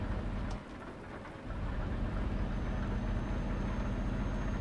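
Rain falls steadily while a truck is driven in a PC truck-driving game, a constant wash of drops over a low engine rumble.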